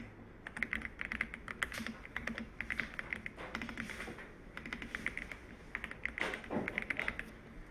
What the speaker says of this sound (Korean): 컨트롤 키 누르고 방향키 아래로 2번 정도 해줄게요